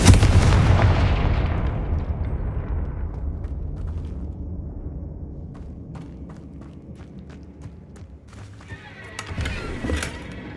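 Confringo blasting spells burst in Hogwarts Legacy, a heavy booming explosion up front that rumbles and fades, with scattered crackles and another sharp blast near the end.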